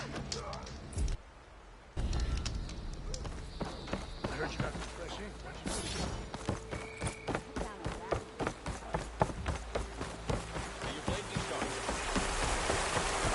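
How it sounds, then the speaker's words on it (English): Steady rain hisses in the video game Horizon Forbidden West, joined by a run of rhythmic footstep-like thuds and occasional knocks, with the downpour swelling again toward the end. "Rain's letting up."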